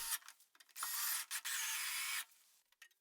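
Bolts being screwed into the cutter block guard of a Jet JWP-12 thickness planer, heard as a few close, loud bursts of whirring driver noise with short scraping pauses, with no talking.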